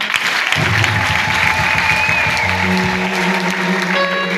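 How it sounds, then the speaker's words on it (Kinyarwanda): Audience applause at a gathering, steady clapping heard throughout while music with a low rhythmic pulse plays under it and a tone enters near the end. "Kimwe bikomera amashyi"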